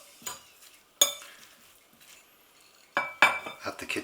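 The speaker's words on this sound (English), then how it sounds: "Give it a stir." Utensil clinks and scrapes from stirring grated sweet potato with smoked tofu in a pan for vegan burger patties, a few sharp separate knocks at the start and a busier cluster of scrapes near the end, close and moderately loud.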